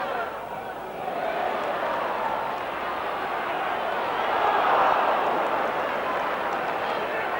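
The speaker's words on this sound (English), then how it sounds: "Well, that's brought the crowd to life." Rugby league crowd at Salford versus Hull roars after a Salford try, a broad, sustained cheer that swells midway and stays loud throughout, with a commentator talking over it.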